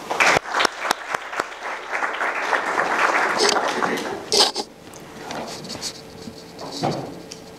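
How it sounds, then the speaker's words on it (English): Loud applause from a crowd, with a few crisp claps standing out, gradually tapering off toward the end. "let's have a round of applause for Professor Murphy."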